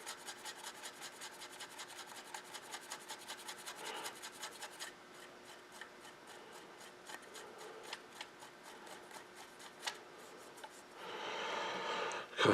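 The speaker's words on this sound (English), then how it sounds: "Like a toothpick, start a scratch. Scrape over the scratch." A toothpick scrapes repeatedly over a scratch in model paint, giving a steady train of close, dry rasping strokes, with a louder, denser scrape near the end.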